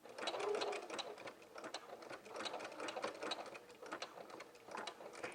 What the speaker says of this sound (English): you're going to sew over the strap